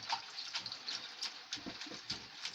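Water runs steadily into a pot for boiling blood tonic leaves, a soft continuous splashing pour with small gurgles, close by and fairly quiet, with no one speaking.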